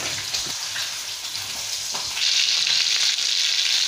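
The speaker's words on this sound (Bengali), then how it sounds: "আমরা মাছগুলোকে ভালোভাবে ভেজে নেব" Fish pieces fry in hot oil in a pan for a curry with potato and bori, giving a steady close sizzle throughout that grows louder and brighter in the second half, with a few soft clinks.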